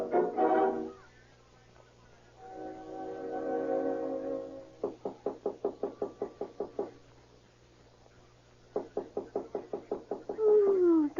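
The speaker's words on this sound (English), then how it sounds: "There's somebody knock on the door." Sound-effect knocking on a door in an old police radio drama: two bursts of about a dozen quick, evenly spaced raps, separated by a pause, with tonal music and a voice around them.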